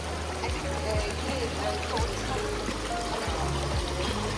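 Cold water from a mountain river rushes in a constant, full flow close by, with voices talking over it.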